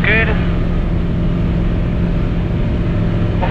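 A light aircraft's engine roars loud and steady during the takeoff roll on runway 01, a continuous close drone from start to finish.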